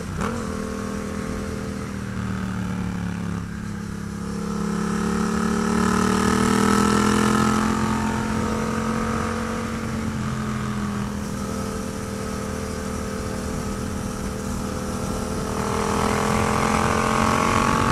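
Yamaha MT-07 motorcycle climbing a mountain road, its engine droning steadily up close with pitch rises and dips as gears change, including a fumbled shift.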